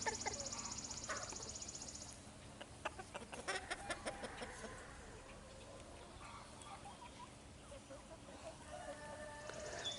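Chickens clucking and pecking while being fed comfrey leaves alongside their regular scratch feed, soft scattered pecks and low clucks over a steady farmyard background.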